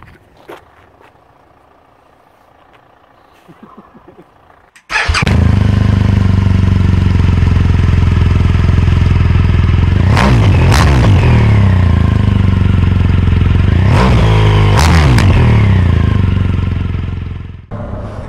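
A BMW GS motorcycle engine fires up after near silence, then idles loud and close with two sharp throttle blips revving up and falling back before settling.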